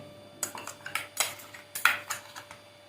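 Wet clinks and clatter in a bowl as banana flower is rinsed and handled, about a dozen light knocks scattered irregularly, close by.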